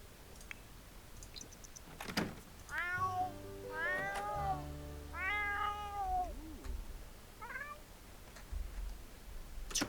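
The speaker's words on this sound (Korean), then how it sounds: "레이가 늙은 고양이가 되었다." Cats meowing in The Sims 4, several drawn-out, rising-and-falling calls in close succession alongside soft background game sounds and a few thumps, with no talking.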